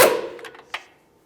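A torque wrench tightens an upper ball joint mounting nut to 37 foot-pounds, giving a sharp metallic knock followed by a couple of lighter ticks and a distinct click, close and alone.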